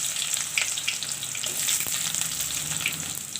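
Onions frying in hot oil with bay leaves for a channa fry, giving a steady, close hiss and crackle of sizzling with no voices.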